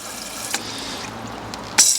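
Water from a hose pipe rinses out the water jacket of a Corvette C5 engine, a steady wet hiss and trickle with a brief louder gush near the end.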